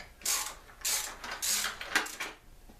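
A socket wrench loosens a Harley motorcycle oil filter with several close, creaking ratchet strokes in an uneven rhythm, one after another without talk.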